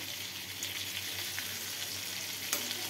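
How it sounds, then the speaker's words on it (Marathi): Malvani-style chicken and liver fry in a pan with a steady, dense sizzle and crackle, close and continuous, with a few brief pops and no voices. "हे बघा मस्तपैकी फ्राय झालेले आहेत."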